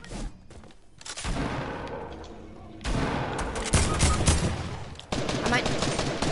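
Video game shootout with gunfire in rapid bursts of loud, sharp shots, separated by short lulls before heavier volleys resume near the end, with excited voices talking over it.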